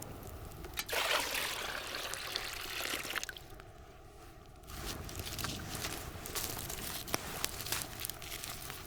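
Water trickles and pours into a handmade wooden container sealed with resin, out in the northern wilderness. A close, uneven dribble breaks off briefly midway, then resumes with small knocks and splashes.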